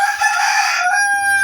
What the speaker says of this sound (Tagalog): pasensya na kayo at napakaingin ng manok